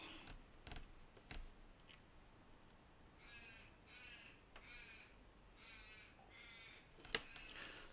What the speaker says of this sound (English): The crow, you can hear the crow?